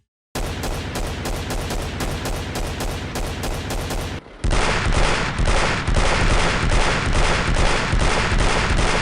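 Rapid pistol shots from the video game Alien vs Predator 2: Primal Hunt crack out loud and close in a steady, fast rhythm, with a brief pause before a second, even louder stretch of continuous firing.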